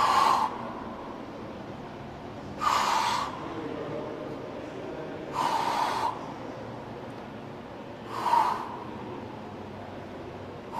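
Rhythmic exhalations during hanging knee crunches: four broad breathy bursts about every 2.8 seconds, fairly close, over a steady low background hiss.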